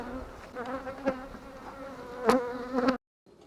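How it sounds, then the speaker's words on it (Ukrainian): Honey bees buzz steadily around hive frames during a first honey harvest, a dense close drone with rising swells, alone, cutting off abruptly at the end. "бджолок трошки трушу, агресивні нападають, на рамки налітають"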